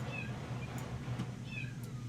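A kitten meows twice, faint and high, in the train game Railroads Online, over a low steady in-game rumble.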